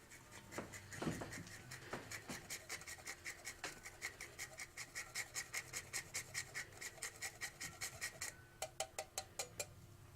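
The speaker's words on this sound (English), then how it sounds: "Then I also want to grate some unsweetened chocolate on top." Quick, evenly spaced scraping strokes of unsweetened chocolate being grated over a port parfait with oranges, soft and close, speeding into a rapid run and ending with a few separate rasps.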